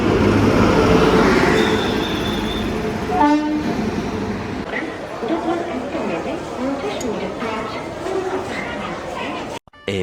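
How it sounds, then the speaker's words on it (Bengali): Patna–Howrah Jan Shatabdi Express pulling into a station: a loud, sustained rumble of rolling wagons runs throughout, with a horn blast early on and busy platform chatter mixed in. "আর এই ট্রেনেই আমরা বাড়ি ফিরবো।"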